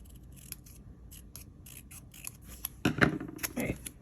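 Scissors snip through filler paper in a string of quick, crisp cuts close by, turning louder and more rasping toward the end, no talk.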